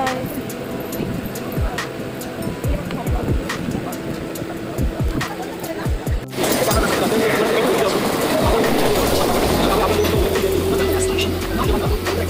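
A Mumbai local train rumbles along toward Dadar station, a steady loud rolling roar with rhythmic clacks over the rails that swells to a denser rush halfway through, with people talking inside the carriage.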